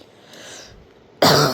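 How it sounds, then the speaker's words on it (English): After a quiet stretch, one loud, close cough bursts out suddenly and then fades. "Apologize for coughing in your ear."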